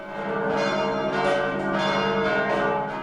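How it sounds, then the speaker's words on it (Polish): Church bells in Poland ring continuously, their rich overlapping tones swelling and pulsing with each strike, sustained and resonant throughout. "Dzwony zabiły tu we wtorek 17 czerwca nie bez powodu."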